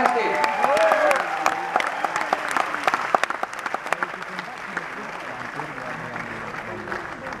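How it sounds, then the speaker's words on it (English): Large audience at an IIT alumni stage event applauds loudly for several seconds as guests are brought on stage, a dense steady clapping with whoops that gradually thins out toward the end. "Let's put a huge round of applause and bring them on stage."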